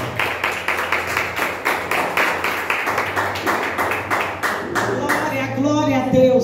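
Congregation clapping in church, loud rhythmic claps in a steady beat with a low hum beneath, fading into scattered claps and voices toward the end.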